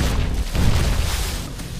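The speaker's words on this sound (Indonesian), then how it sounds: "Kembali ranjau meledak." A deep, muffled boom of a landmine explosion rumbles briefly, followed by a low roaring tail.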